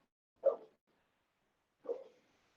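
Fiona the dog gives two short barks about a second and a half apart, each fading quickly, moderately distant against an otherwise quiet background.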